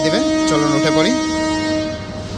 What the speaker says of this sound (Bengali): ট্রেন কিন্তু হর্ন দিয়েছে, ছেড়ে দেবে